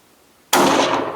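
A single sharp rifle gunshot cracks loudly after a quiet lead-in, then rings out in a broad decaying roar, fired at a deer during a Texas deer hunt.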